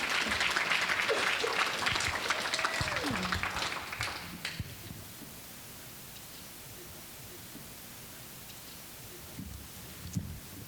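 At a spring milestone celebration, a crowd applauds as students head to the stage, dense clapping for about four seconds that then fades into quiet room noise with faint stray sounds.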